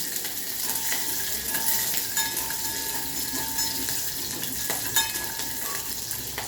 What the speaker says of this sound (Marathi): मी याच्यात मिरच्या घालते चांगल्या चांगला परतून घेणार